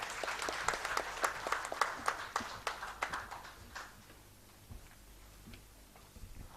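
An audience applauds to welcome a speaker onto the dais at the DISHA 2014 inaugural event, a fairly close burst of claps that peaks early and then thins into a few scattered final claps.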